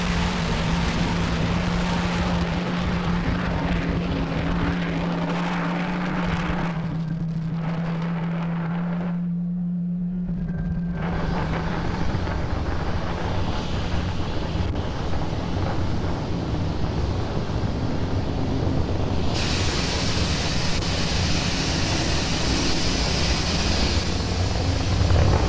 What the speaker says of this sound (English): As you can see, Falcon 9 has had a successful liftoff from pad 39A.